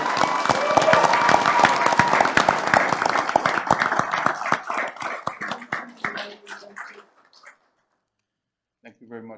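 Audience at a city commission meeting applauding, dense clapping that thins out and fades over several seconds, followed by a brief voice.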